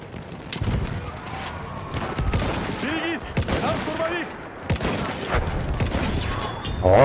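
Rapid machine-gun fire and overlapping gunshots in the World War I shooter Battlefield 1 crackle through a battle at the Volga River, with loud bursts and booms mixed under excited shouting voices.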